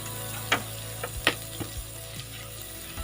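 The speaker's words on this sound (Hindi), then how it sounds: "लहसुन हमारा फ्राई हो चुका है" Steady sizzle of garlic ginger paste frying in ghee over medium-low heat, with a few soft clinks and scrapes of stirring, no talking.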